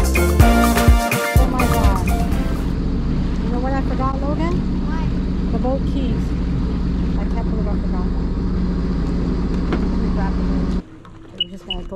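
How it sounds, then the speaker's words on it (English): A Sea-Doo personal watercraft engine drones steadily and loudly, with voices talking over it, then the motor drops away near the end. "so Logan and I are on the Sea-Doo."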